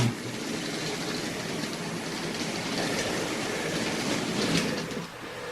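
A small OO gauge Hornby Black 5 model locomotive with faulty pickups rumbles and rattles along its track with a steady mechanical whir, close by and fairly loud, with no voices.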